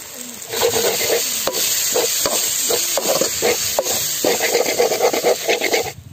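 Ginger garlic paste and chili powder masala sautéing in oil for a spicy quail dish, with loud, close rhythmic scraping and rubbing of a spoon against the pan over a steady sizzle.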